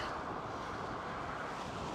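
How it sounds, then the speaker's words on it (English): Steady broadband wind noise buffeting the microphone, constant and fairly soft, with no voices. "You can tell it's going to be pretty windy today."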